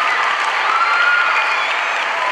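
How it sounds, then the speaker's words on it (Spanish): Audience applause at an evening excellence awards ceremony held by the Toa Baja municipality, greeting honorable Aníbal Vega Borges; dense, steady clapping from a crowd, sustained and fairly loud throughout. "Recibamos con un fuerte aplauso a nuestro honorable Aníbal Vega Borges"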